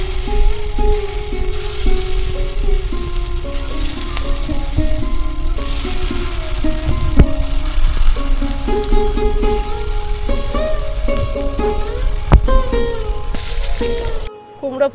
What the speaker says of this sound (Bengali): কুমড়ো ফুলগুলোর এক পিঠ খুব ভালো করেই ভাজা হয়ে গেছে